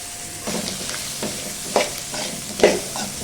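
Potatoes with salt and turmeric sizzle in a hot pan, a steady close frying hiss broken by a few spatula scrapes and clacks against the metal.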